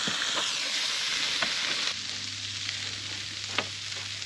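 Bacon frying on a Blackstone griddle, a steady broadband sizzle with occasional sharp pops and crackles, continuous and close, no voices.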